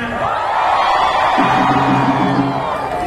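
A concert crowd yells and cheers together in a sustained, loud roar of voices, with a rising collective shout in the second half.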